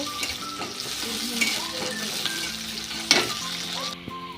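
Chopped onions fry on a high flame in oil with cumin and nigella seeds, giving a loud, steady close sizzle broken by occasional stirring scrapes and a sharp clatter near the end, with no talk.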